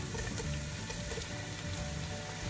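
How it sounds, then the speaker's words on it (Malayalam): Chopped tomatoes dropped into a pan of frying beef curry, a steady close crackling sizzle with a wet, bubbling hiss running evenly throughout, no voices. "ഇനി നമുക്ക് ഇതിലേക്ക് അരിഞ്ഞു വെച്ചേക്കുന്ന തക്കാളി ഇട്ട് കൊടുക്കാമേ"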